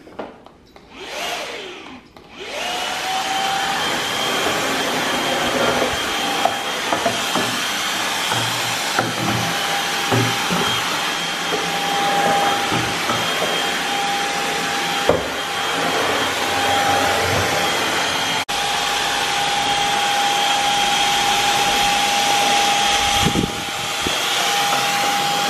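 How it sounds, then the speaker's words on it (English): A vacuum cleaner runs steadily on household stairs during a daily cleaning routine, a loud continuous motor whine with a high tone, with small bumps and knocks as it moves from step to step. "So what I'm going to do first of all, I think, is give the stairs a really quick vacuum."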